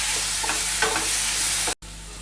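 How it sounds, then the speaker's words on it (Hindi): Red chili paste and fried potatoes sizzling in hot oil for lasaniya batata, with a steady hiss and brief scraping strokes of stirring, close and moderately loud, ending in a short cut. "तैयार की हुई लाल मिर्च की पेस्ट हम तेल में डालेंगे और फ्राइड आलू को भी हम डालेंगे और आलू को हम हिला दें"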